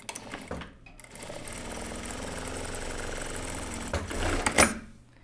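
A sewing machine stitches a finishing seam on a shirt hem in one continuous run, building slightly in loudness and stopping with a brief mechanical clatter.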